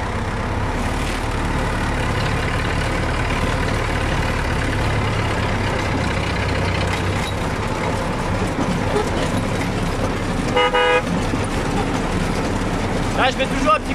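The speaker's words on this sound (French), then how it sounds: "Là, je mets toujours un petit coup de klaxon parce que j'ai aucune visibilité sur ce qui se passe." A Someca 715 tractor gives one short horn blast near the end, rising briefly over the steady rumble of its engine, with someone talking.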